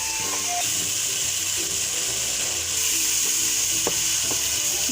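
Spices frying in a pan for lauki chana dal while being mixed, a steady loud sizzle with scraping stirring clicks and a few small pops, no speech.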